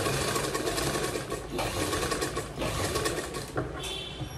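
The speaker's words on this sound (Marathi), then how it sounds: "अशी आतून दाब शिलाई मारल्यावर फिनिशिंग व्यवस्थित येते" A sewing machine stitches a little girl's long gown, its motor whirring loudly and continuously with a rapid needle chatter, dipping briefly at a few points before running on.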